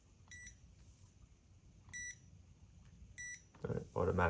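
The automatic timer on a Hive coffee roaster gives three short electronic beeps, each high and tonal and spaced about a second and a half apart, over a low background rumble, before a voice starts speaking.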